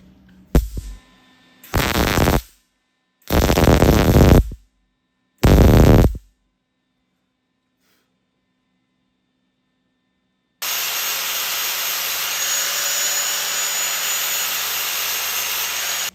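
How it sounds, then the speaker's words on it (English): Plug welding on the car body metal of a 1966 Triumph GT6 valance: four short, loud bursts of harsh crackle separated by quiet gaps, then a steady, continuous hiss that runs to the end. "So I'm gonna make just one plug weld here, and that's gonna be it."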